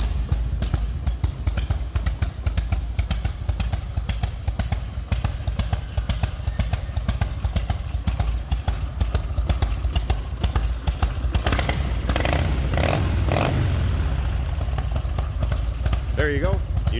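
Engine of a 1993 Harley-Davidson FXDWG Wide Glide motorcycle running steadily up close, a continuous low rumbling throb with a brief rise in revs near the end.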